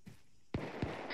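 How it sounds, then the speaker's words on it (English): Gunfire in the video game Arma 3: a couple of sharp, distant cracks in quick succession, faint and brief, with no talking. "I just heard more gunfire coming from north."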